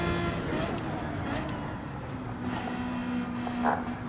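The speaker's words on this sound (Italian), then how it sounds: "il rumore di questo 12 cilindri" A steady 12-cylinder car engine drone in Gran Turismo 7 runs throughout at moderate loudness, with a faint sustained tonal hum and some music or voice layered underneath.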